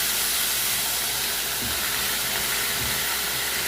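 Garlic paste and ginger paste sizzle as they fry in a pan, a continuous hissing spray of sound, close and steady, with a couple of faint low knocks and no voices.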